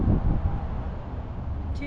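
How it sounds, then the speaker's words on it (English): Wind blows outdoors beside a naval base security gate, a loud gusty rumble buffeting the microphone that eases slightly, with a brief rustle at the end. "windy out here today"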